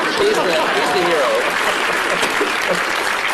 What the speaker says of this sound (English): You can applaud him.